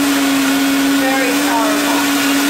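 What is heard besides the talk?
Vitamix blender on turbo blend making green smoothie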